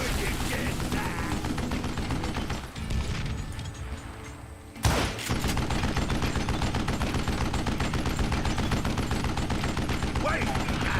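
Sustained heavy gunfire in a video game, rapid automatic bursts and booms filling the mix, briefly dipping before one loud blast and a renewed barrage, dense and unrelenting.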